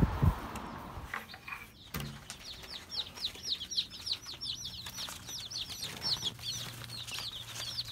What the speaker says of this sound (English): Here they are, all the little baby chicks.